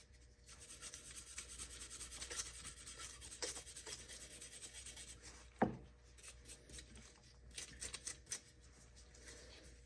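Rust being scrubbed by hand off an International D310 diesel fuel injector, a quiet steady rasping and rubbing in short strokes with a few sharper scrapes and knocks, close by, no talk.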